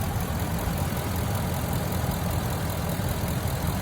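A 2017 Ford E-350 Super Duty box truck with a 6.2 liter flex fuel V8 idles steadily, a continuous low rumble held close and even for a few seconds with no talk over it.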